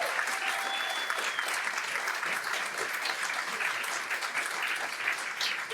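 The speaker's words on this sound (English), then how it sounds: "give yourselves a round of applause for being here tonight" An audience at a congressional debate for Virginia's 10th district claps together, a dense, steady wash of applause that holds evenly throughout.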